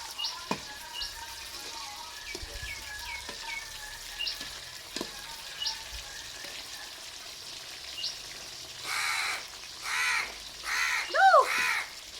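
A crow caws outdoors beside a home kitchen where chicken 65 is frying; distant calls and small knocks come first, then several loud, close caws in a quick burst near the end.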